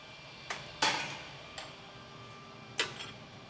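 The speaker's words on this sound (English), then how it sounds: "So just a simple tap will break that glass off." Hot glass being tapped to snap it free from the iron in a glassblowing studio, a few sharp isolated ticks spread apart, fairly close over quiet room hiss.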